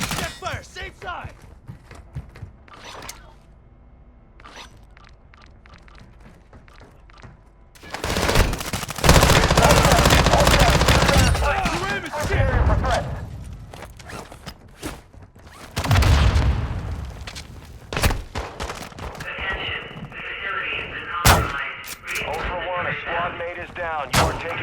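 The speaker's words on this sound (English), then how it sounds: "You are taking effective fire." Gunfire and heavy explosive bursts in Call of Duty: Modern Warfare II's Building 21 mode, loud clustered volleys with quieter gaps, mixed with in-game radio voice callouts.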